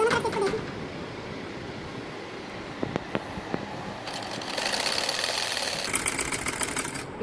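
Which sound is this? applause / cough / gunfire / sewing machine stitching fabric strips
sewing machine stitching fabric strips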